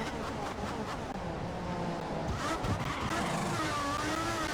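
Ferrari Formula 1 car in a racing video game, sweeping through a chicane during a qualifying lap at the Bahrain Grand Prix, its engine note rising and falling steadily with faint tyre scrub, loud and continuous throughout.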